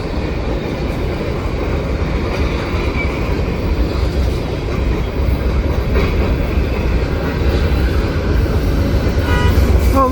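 A CN freight train led by an SD75ACC locomotive rolls past at Sainte Anne, a loud, steady rumble of wheels and cars with faint clicking over rail joints, continuing throughout without voices.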